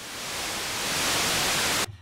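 White noise from the oscillator section of a Novation Bass Station 2 synthesizer, a steady full-spectrum hiss that swells slightly and then cuts off abruptly near the end, heard alone.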